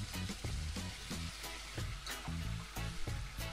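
Green chillies and cumin seeds fry in a pan while brinjal and tomato chutney is being made, giving a steady close sizzle broken by repeated scraping stirs and clinks of a spoon against the pan.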